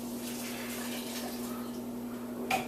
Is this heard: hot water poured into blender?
yes